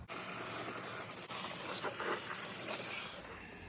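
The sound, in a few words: spraying engine degreaser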